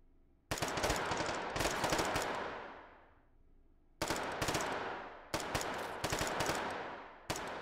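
Machine gun fire in the VR shooting game Hot Dogs, Horseshoes & Hand Grenades: several long rapid bursts separated by short pauses, each burst loud and dense before it fades out into a ringing tail.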